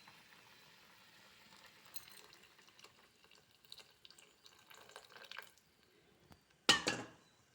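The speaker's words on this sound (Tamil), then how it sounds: "இப்போ இந்த புளி தண்ணியை அதில் ஊற்றிக்கலாம்." Tamarind water is poured into simmering kuzhambu in a pan, giving a soft, faint splashing and liquid trickle, followed by a sharper, louder clatter near the end.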